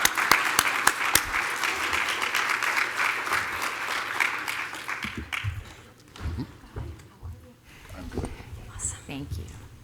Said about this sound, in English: So why don't we start with a big round of applause,